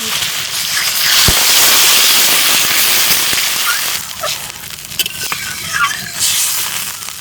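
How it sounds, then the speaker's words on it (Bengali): Water poured into a hot pan of fried potatoes coated with salt, ginger-garlic paste, cumin and pepper for a rohu fish curry, giving a loud, steady broadband hiss with scattered sharp crackles throughout. "আমি এখন জল দিয়ে দিচ্ছি"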